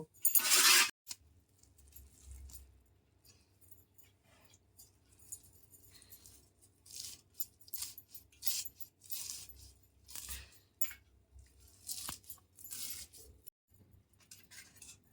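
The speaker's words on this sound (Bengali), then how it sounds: "এবার শাকগুলোকে আমি কেটে নেব" Knife chopping washed jute leaves (pat shak) on a board, a series of soft, irregular cuts close by, each one brief and quiet, with no voice.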